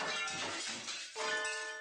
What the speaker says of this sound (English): Some glass object splinters with a monumental crash behind us as we make for the exit.